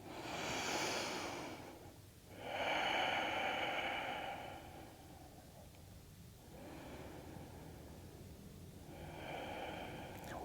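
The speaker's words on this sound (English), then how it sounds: "We take 3 breaths here." Slow, deep breathing during a gentle yoga flow, with long airy inhales and exhales, three full breath cycles, close and soft with no talk.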